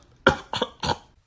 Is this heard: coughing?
yes